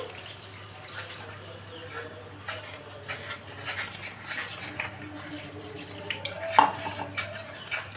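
Yogurt and gram flour batter whisked in a bowl for kadhi, a soft steady stirring and scraping with light clinks of utensil on the bowl, close by and fairly quiet, with a louder knock near the end.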